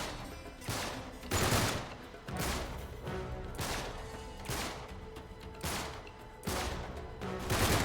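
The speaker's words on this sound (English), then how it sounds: "Hey, Sully, maybe don't fire while they're behind cover." Gunfire in Uncharted 3: Drake's Deception, repeated bursts of rapid shots in several volleys separated by brief gaps, moderately loud and crackling over a low ambient rumble.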